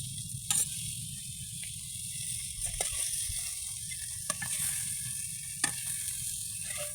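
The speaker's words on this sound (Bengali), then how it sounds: "চিংড়ি মাছ ভাজা হচ্ছে" Prawns sizzle and crackle in hot oil in a new wok, a steady close frying hiss running throughout with a few sharp pops and spits standing out.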